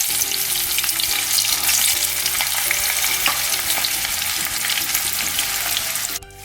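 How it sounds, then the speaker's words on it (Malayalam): Fish shallow frying in a pan of oil for a Kerala-style fish biryani, a dense continuous sizzle with crackling pops, loud and close, ending with a brief clatter. "അപ്പോൾ ഇത് ഷാലോ ഫ്രൈ ആണ് ചെയ്യുന്നത്, ഡീപ്പ് ഫ്രൈ വേണ്ട"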